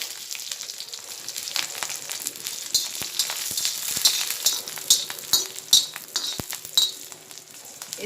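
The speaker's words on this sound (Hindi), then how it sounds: "अब मैं ये हरी मिर्ची लूँगी, जिसे मैंने टुकड़े किए हैं, और इसे भी तेल में तलकर लूँगी।" Green chili pieces sizzle and fry in hot oil, a steady crackling hiss with scattered sharper pops growing louder toward the end; no one speaks.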